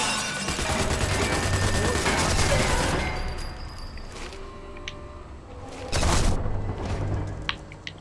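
Machine gun fire in Sniper Elite 4 at the Allagra Fortress. Dense, rapid bursts of shots are fairly close, followed by scattered quieter shots and a sharp burst near the end.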